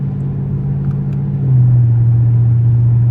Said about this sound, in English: I really need to do donuts and go the other way now